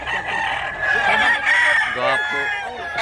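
Fighting-cock roosters crowing loudly and close by, with clucking fowl mixed in, overlapping in a busy farmyard chorus.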